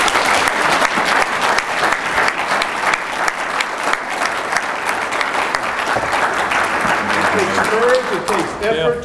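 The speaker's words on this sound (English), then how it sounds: "why don't we all give them, everyone, a big round of applause" An audience at a congressional debate event in Pensacola gives sustained, dense applause for about nine seconds. The clapping eases off at the end as a voice begins to speak.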